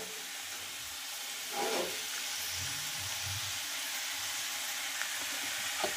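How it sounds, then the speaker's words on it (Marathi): Ivy gourd (tondli) frying in oil with salt: a faint, steady hiss of gentle sizzling throughout, with a few soft stirring touches. "असं फ्राय करून घेणार आहोत"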